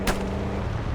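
Gunfire in the video game Call of Duty Black Ops 6 at a date farm, a single loud sharp shot up front followed by a dense rumbling battle bed, no talk.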